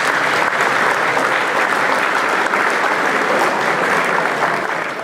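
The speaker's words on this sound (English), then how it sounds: "how about a round of applause for our actors?" A dinner-theatre audience at a murder mystery dinner applauds the actors, dense sustained clapping from a crowd filling the room, loud and steady before it slightly tapers.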